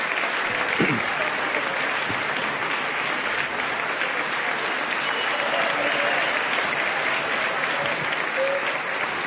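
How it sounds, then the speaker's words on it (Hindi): Sustained, dense applause from an audience at a festival ceremony honoring Ustad Sher Miandad Khan, steady and loud throughout as an award recipient is applauded. "बहुत सारी तालियों की जरूरत है इस वक्त"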